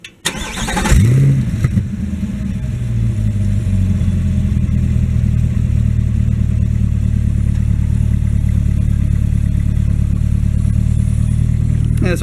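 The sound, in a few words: car engine revving at exhaust tip with silencer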